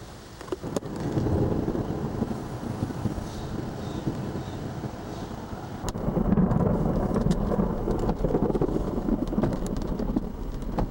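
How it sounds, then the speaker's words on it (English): Thunderstorm at a campground on a 1997 road trip to South Dakota, with a steady roar of rain and wind buffeting the microphone and low rumbling thunder that swells louder partway through, no voices. "Terrific lightning going on."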